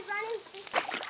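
Children run through a backyard water sprinkler on a summer day, with a brief spray and splatter of water mixed with a voice nearby.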